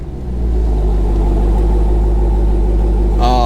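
A car engine drones at a loud, steady high rev near redline, holding the pitch, and a sharp gear shift comes near the end.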